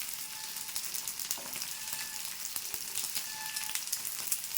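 Dried moyya fish frying in a pan, heard as a faint, steady crackling sizzle with scattered small pops, close by and uninterrupted.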